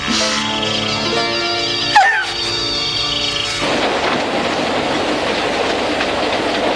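A train rumbles past with rhythmic clacking and a drawn-out whistle, loud and close, fading into a steady rolling rush.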